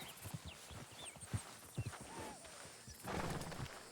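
Horse hooves clip-clop at a walking pace in Red Dead Redemption 2, a series of soft, uneven thuds over outdoor ambience with occasional faint bird calls.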